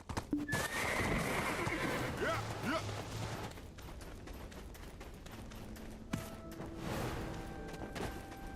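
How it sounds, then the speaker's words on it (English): A horse in a video game neighs loudly, then hooves clip-clop at a steady pace, with game effects in the background and some speech mixed in. "There's a horsey here."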